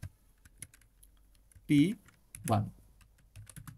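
Scattered soft clicks of typing on a computer keyboard tap intermittently in a quiet room, with someone speaking briefly between the keystrokes.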